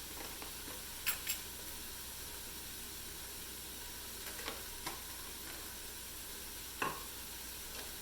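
Plant-based split pea soup being stirred in a pot, a faint steady hiss with a few soft, scattered spoon clinks, quiet and without talk.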